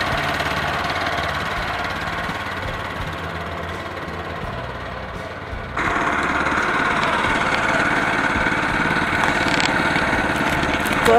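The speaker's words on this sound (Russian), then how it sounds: "вот сделал трактор себе" A homemade mini tractor's small engine chugs steadily at idle, then jumps to a louder, harsher running note about halfway through and keeps going.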